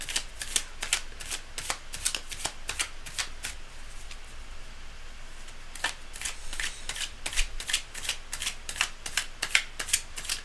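Tarot cards are riffled and shuffled repeatedly, quick crisp bursts of flapping clicks in an uneven rhythm, close up and fairly quiet.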